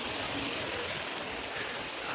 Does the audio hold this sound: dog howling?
no